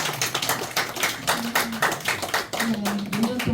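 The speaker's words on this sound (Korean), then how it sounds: "우리 고3 선배님들 향하여 박수!" A youth church congregation claps for graduating high-school seniors, a dense round of applause heard close and steady for a few seconds, with a voice speaking over it.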